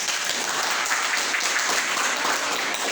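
Students in a classroom break into steady, full applause, a dense wash of clapping that holds at an even level throughout with no talk.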